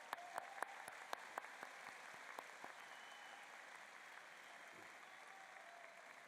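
Steady applause from a large audience at a George Mason University School of Business graduation, sustained and fairly distant, with a few sharper claps at the start before it settles into an even wash.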